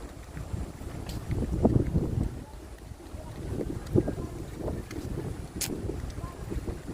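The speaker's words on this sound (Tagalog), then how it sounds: "Lakas ng hangin." Strong wind buffets the microphone on a high outdoor spot, rumbling in uneven low gusts that swell and ease throughout, with a brief faint voice in the background.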